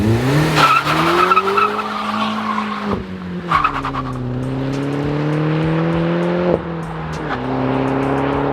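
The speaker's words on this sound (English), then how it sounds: "That's not a bad sounding exhaust." A manual-swapped Hyundai Genesis Coupe revs and holds a low, throaty exhaust note, with gear changes and bursts of higher revs as it pulls away, loud and close.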